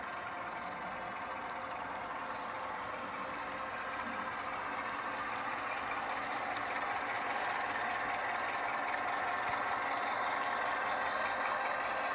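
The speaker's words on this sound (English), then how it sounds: "we're going to get one last chance to listen to these beautiful Alcos." Idling Burlington Northern Alco C-415 diesel locomotives rumble steadily in a rail yard, a constant low engine drone with faint mechanical hiss, moderately distant and unchanging throughout, no voices.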